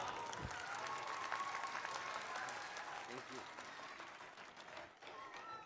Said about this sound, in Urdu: آپ نے بھرپور تالیوں اور محبت کے ساتھ ان کا استقبال کرنا ہے